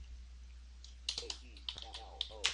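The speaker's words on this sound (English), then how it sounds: "and I'll now type my status message" Typing a status message on a computer keyboard: a handful of close, crisp key clicks in an irregular rhythm, mixed with brief synthetic speech-like sounds over a low hum.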